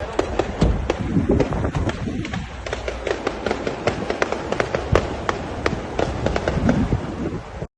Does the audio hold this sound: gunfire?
yes